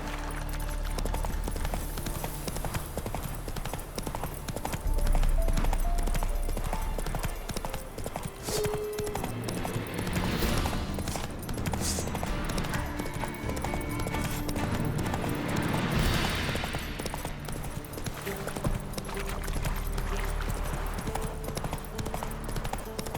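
A horse gallops in The Witcher 3, its hooves pounding out a steady, loud clip-clop rhythm that runs without a break over a busy game soundscape.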